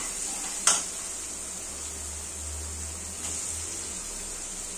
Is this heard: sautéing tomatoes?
yes